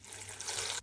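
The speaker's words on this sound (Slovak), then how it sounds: "Dáme tam vodu" Water pours into a MioMat smoothie maker jug holding blackberries, blueberries, strawberries and banana, a brief close splashing rush lasting under a second before stopping abruptly.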